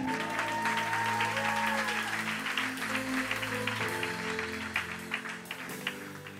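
A church congregation applauds with sustained clapping that tapers off toward the end, over a held organ or keyboard chord.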